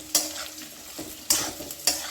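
Spice paste frying with cauliflower in a pan, close and fairly quiet, with a steady low sizzle broken by three sharp scraping stirs spaced across the moment.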